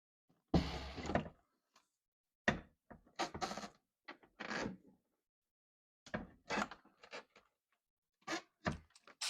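A car window regulator being worked and jimmied down inside the door during a window regulator replacement, heard as a series of short, close mechanical clunks, rattles and scrapes separated by silent pauses, with no talking.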